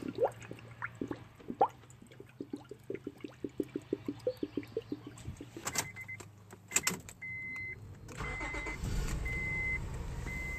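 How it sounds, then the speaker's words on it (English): A 2003 Honda Pilot's engine is started, coming after a long run of regular drips and clicks. A brief cranking burst gives way to a steady idle with a faint whine, heard close and fairly loud. "I'm going to go start the engine."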